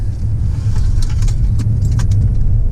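A 2018 BMW 530e M-Sport hybrid car driving, a steady low interior rumble of road and engine noise with faint rattles and clicks above it, constant and close, no voices.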